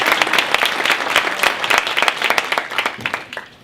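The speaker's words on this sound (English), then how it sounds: "Please, a round of applause for all county for coming." An audience at a Seattle launch event breaks into a dense round of applause, many hands clapping close and loud before thinning out toward the end.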